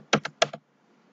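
Four quick keystrokes on a computer keyboard as a password goes in, clicking in two close pairs and then stopping, near and fairly quiet with no talk.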